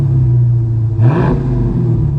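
A 2018 Dodge Challenger R/T Scat Pack with a 6.4-liter Hemi V8 and six-speed manual blips its throttle once in a short, loud rev that swells and settles back over a steady, deep idle rumble.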